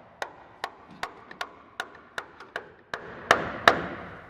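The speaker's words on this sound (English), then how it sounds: "we will be hammering the bolts. With like a plastic mallet type of thing" A plastic mallet hammers bolts into an aircraft wing during a build, producing about ten sharp, evenly spaced knocks, close and clear, the last two striking harder, with no voices.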